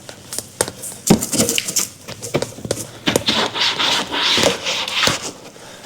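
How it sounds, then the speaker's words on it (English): Rapid back-and-forth scrubbing and rubbing against the wet window of a supercharged Z06 Corvette, close and fairly loud, with irregular scraping strokes and brief knocks throughout. "scrub it."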